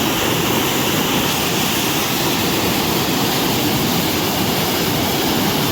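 A loud, constant roar of water crashing and splashing over the Thirumoorthy Dam spillway, dense and unbroken throughout.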